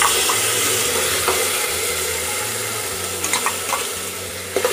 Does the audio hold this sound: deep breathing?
no